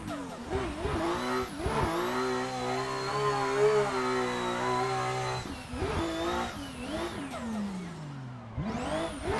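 A BMW E92 pro drift car's engine screams and revs hard as it slides around a snowy Nürburgring, rising and falling in long bursts with brief lifts off the throttle, loud and close.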